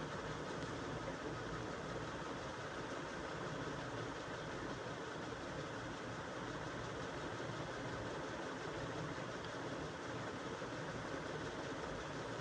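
A sewing machine running a continuous stitch around the cuff of a child's Pathani kurta, a steady, faint mechanical hum and whir with no pauses.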